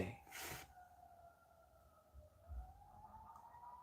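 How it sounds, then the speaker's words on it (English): A faint, steady ambulance siren, with a police car siren, wails in the distance, its tone slowly rising, after a short burst of noise at the start. "Ambulance. And a cop car. But mostly an ambulance."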